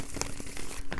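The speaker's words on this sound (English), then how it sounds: "Do one more shuffle here for Aquarius." Tarot cards are shuffled by hand in a quick, brief flurry of soft papery riffles and light taps, close and moderately loud.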